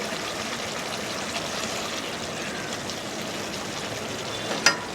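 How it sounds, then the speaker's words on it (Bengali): Fish curry bubbling in a pot, a steady close simmering rush of boiling liquid with a single brief clink near the end. "এবার আমি মাছটা কিছুক্ষণ ভালো করে ফুটিয়ে নেব।"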